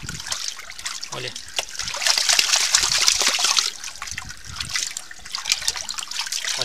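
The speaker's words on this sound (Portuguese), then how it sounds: "Essa água aqui vai toda embora." Dirty water drains out of a pond with a steady trickling and splashing rush, swelling louder in the middle, while someone talks over it.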